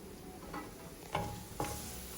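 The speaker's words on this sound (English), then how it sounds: "While the onions are cooking" Onions cooking in oil for a Rajasthani red chicken curry, a faint steady sizzle with a few soft stirring scrapes of a utensil against the pan.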